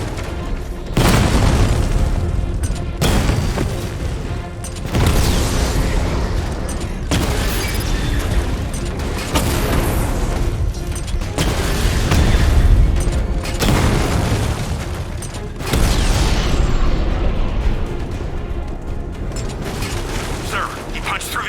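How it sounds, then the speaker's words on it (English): Repeated heavy booms of a tank's 60mm cannon and explosions in the Batman Arkham Knight video game, a series of loud blasts with mechanical clanks and rumble between them. "Your 60mm cannon will penetrate these heavily armored units, but it'll take a few direct hits to destroy them."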